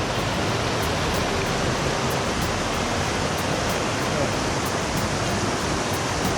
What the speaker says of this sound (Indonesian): Ini sungainya ya sangat deras memang, sangat deras sekali sungai ya, arusnya arus liar semua nih ya.